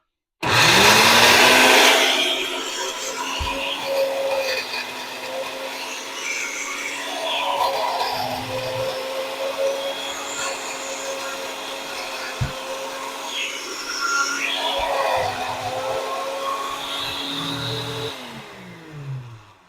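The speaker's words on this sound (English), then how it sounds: "While you spin, you could tilt the blender so it could loosen up the bottom" A blender grinds dried pomegranate shells and seeds, starting with a loud surge, then holding a steady whirring motor drone with shifting rattles and occasional knocks as the jar is tilted, before cutting off.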